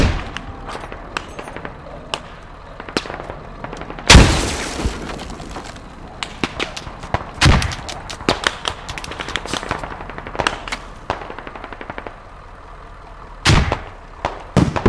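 Rapid bursts of gunfire crackle through a video game firefight, punctuated by a few loud broadband blasts like a grenade explosion, with sharp, closely spaced shots continuing throughout.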